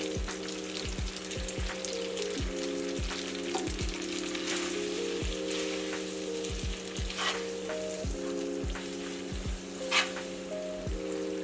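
Garlic lemon shrimp scampi sizzles steadily in a pan as Parmesan cheese goes in, a constant crackling fry with repeated scraping stirs and light clinks of a utensil against the pan, close and unbroken.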